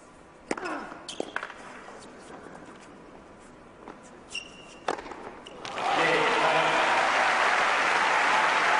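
Tennis crowd at the 2010 ATP World Tour Finals semi-final between Nadal and Murray breaking into applause, a few scattered sharp sounds followed by a sudden loud, sustained swell of clapping from a large arena audience.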